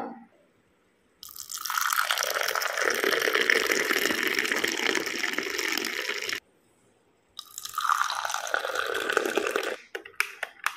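Frothed milk pours into coffee for hotel-style filter coffee at home, a steady close liquid gush and splash with a short pause before a second pour trails off into drips.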